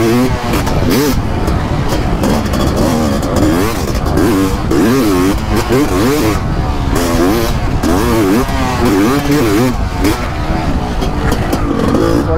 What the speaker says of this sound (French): la moto elle craque vraiment